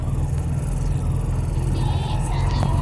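A motorized tricycle bounces over a potholed shortcut road in the rain, its engine a steady low rumble with jolting knocks underneath, close and continuous.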